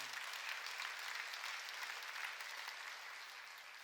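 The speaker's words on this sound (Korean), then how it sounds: "인색한 자라고 나온 걸 믿으면 박수를 치라게" A congregation at a Sunday worship service claps together during a sermon, a faint, distant, continuous patter that tapers off slightly toward the end.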